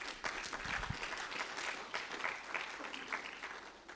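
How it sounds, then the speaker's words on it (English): An audience at a World Tuberculosis Day event claps in a steady round of applause that fades slightly toward the end, with a faint voice underneath. "Can you give me a round of applause?"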